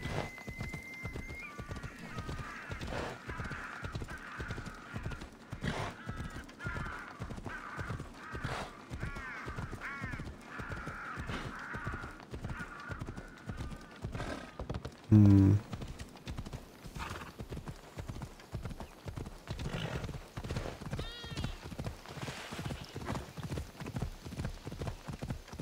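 Horse hooves clip-clop in a steady, even gallop rhythm throughout, with a neigh early on and a brief thump midway, while a rider travels on horseback in the video game Assassin's Creed Odyssey.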